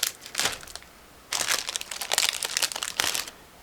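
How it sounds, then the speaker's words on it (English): A plastic bag holding Miniart 1/35 street accessories model kit parts is opened and handled, giving bursts of loud, close crinkling and crumpling: one short rustle, a pause, then a longer stretch of crackling plastic. "But first I'm going to open this plastic bag and we will take a closer look together."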